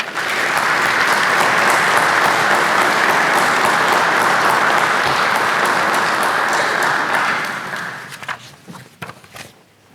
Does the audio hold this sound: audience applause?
yes